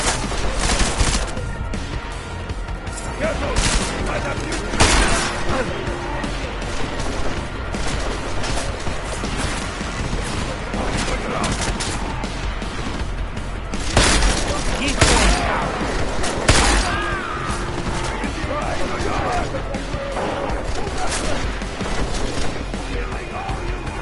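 Gunfire in the Deus Ex video game crackles in rapid bursts and sharp single shots for a long stretch, loud and close, with some heavier crashes mixed in and talk from game characters layered over it.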